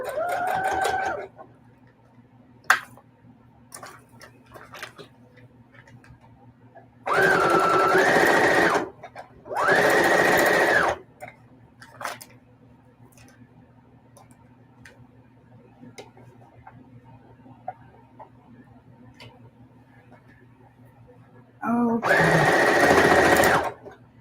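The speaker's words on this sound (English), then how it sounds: "I'm gonna back stitch a little bit because this will be a lot of fabric" A sewing machine back-stitches heavy quilt fabric in three separate loud bursts of fast whirring, with quiet ticking and handling noises between the runs.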